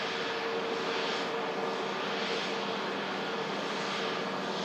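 Scandinavian and EasyJet airliners taxi at an airport, their engines making a steady broadband roar that fills the whole stretch without letting up.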